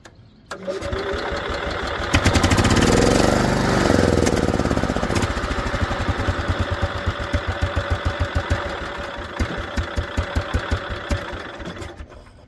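Case garden tractor engine on brown gas starts up and runs loud and close, settling into a rough, uneven putter with rhythmic pulses and misfires toward the end.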